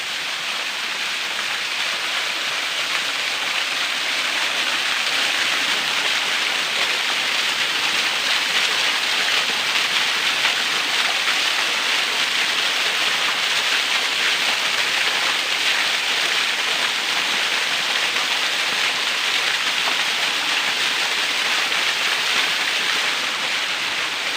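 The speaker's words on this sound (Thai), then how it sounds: "น้ำตกงามครับสวยงาม" A waterfall near a meditation retreat, a steady broadband rush of falling water that holds at a constant roar throughout without pause, with no voices over it.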